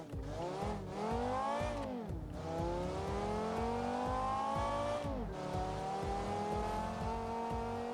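A badly damaged touring-style car built at random in Automation and driven in BeamNG: its engine climbs through the revs in steady, continuous pulls, with clear gear changes near two and five seconds, loud and close throughout.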